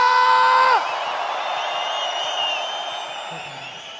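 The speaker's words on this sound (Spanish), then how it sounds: "aquí estamos todos gritando" A crowd at the Red Bull Batalla 2025 national final freestyle rap battle in Chile whoops, yells and cheers loudly. A sharp burst at the start gives way to a sustained, slowly fading roar, with no clear speech.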